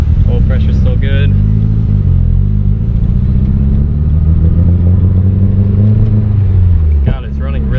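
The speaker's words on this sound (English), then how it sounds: "God, it's running really rough. It's just backfiring the whole time." Nissan 240SX with a built SR20DET engine at first start-up, idling roughly with a loud, close, continuous rumble and unsteady pitch, broken by sharp popping backfires near the start and end, under a speaking voice.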